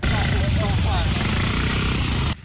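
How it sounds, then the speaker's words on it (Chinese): Dozens of motorbikes gathered at night in a city park rumble together, a dense, loud, continuous roar of revving engines that holds steady before cutting off abruptly at the end. "发动油门，引擎声发出轰隆隆声响"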